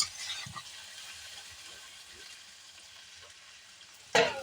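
A chicken and potato kosha fries quietly with soft stirring, then water hits the hot pan near the end and sets off a sudden loud burst of sizzling.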